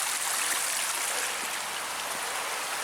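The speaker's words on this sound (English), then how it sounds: "When a path, a stream, and a waterfall, and a path all in one." A stream and small waterfall flowing beside a hiking path, a dense, steady rushing and splashing of water close by, continuous and even with no talking over it.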